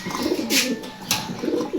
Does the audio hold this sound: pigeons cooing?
yes